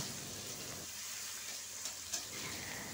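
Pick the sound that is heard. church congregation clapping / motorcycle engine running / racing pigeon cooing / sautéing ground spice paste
sautéing ground spice paste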